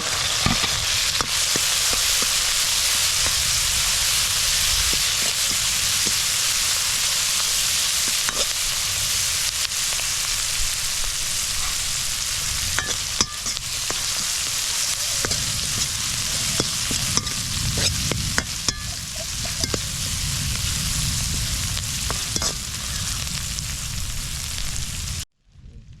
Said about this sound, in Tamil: கொஞ்சம் பொரிஞ்சு வருது